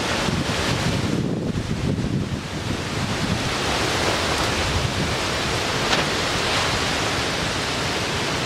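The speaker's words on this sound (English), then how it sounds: "it's a bit of a blustery day today" Blustery wind buffets the microphone outdoors beside a potted asparagus fern trained bonsai style, a steady broadband roar with gusty surges throughout and no speech.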